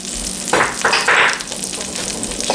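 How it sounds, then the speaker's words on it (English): Flour stirred in a pan over low heat, with a little salt and pepper added. Loud, close sizzling frying continues throughout, with several distinct scraping bursts from the stirring. "I'll go ahead and stir in my flour, a little salt"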